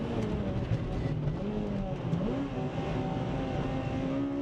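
Honda FD2R Civic Type R race car lapping a track at night, its engine droning steadily with rising and falling pitch through the corners, loud and continuous with no talk.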